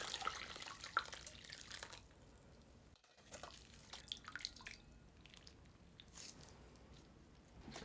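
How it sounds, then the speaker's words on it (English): Cooled, drained spinach drips and trickles water in a kitchen, with close wet patters and splashes running steadily throughout and a brief pause partway through. "Drain and cool in cold water."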